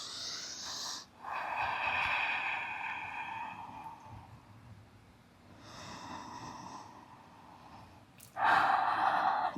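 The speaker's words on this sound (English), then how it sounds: "Connecting to that flow of Ujjayi breathing." Ujjayi breathing during a dynamic yoga flow, slow audible breaths with a hissing, ocean-like throat constriction, each inhale and exhale drawn out over a couple of seconds, close and prominent in a quiet room.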